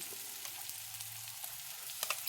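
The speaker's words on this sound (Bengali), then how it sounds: "আদা রসুনের বাটনা দেওয়ার পরে আবারও খুব ভালো করে আদা রসুন পেঁয়াজ ভাজার সঙ্গে মিশিয়ে নিতে হবে।" Ginger garlic paste fries with onions in a little oil for a low-oil mutton curry, giving a faint, steady sizzle with light stirring sounds near the end.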